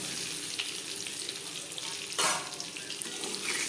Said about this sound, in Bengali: ডিম লালচে করে ভাজা হয়ে গেছে